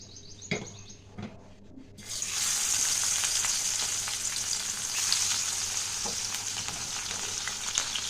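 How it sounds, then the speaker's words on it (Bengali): Small chara pona fish rubbed with salt and turmeric hit hot mustard oil in a kadai, a loud steady sizzle bursting in after a couple of faint knocks and carrying on without any voices. "কড়াই দিয়েছি সর্ষের তেল, তেল গরম হয়ে গেছে। আর দেখো মাছগুলো ভালো করে নুন হলুদ মাখিয়ে আর ভেজে নেব।"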